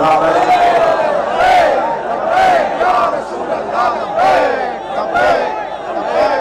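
A large crowd gathered around a container chants religious slogans in loud, rhythmic waves, voices swelling and falling together at close range.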